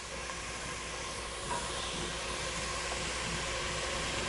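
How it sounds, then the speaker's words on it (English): Diced tomato hits a pan of cooking onions, carrots and celery, giving a steady, dense hiss of sizzling that holds at an even level with no talk over it. "So I'm just going to dice it up and add it to the mirepoix that's already cooking in there."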